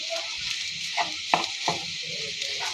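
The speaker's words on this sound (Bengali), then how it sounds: "আলুটার সাথে আমি ভালো করে মিক্স করে ভেজে নিব।" A fish kebab mixture of mashed boiled potato, chopped green chilies and coriander leaves frying in a pan, with a steady sizzle, a few louder stirring scrapes and no one talking.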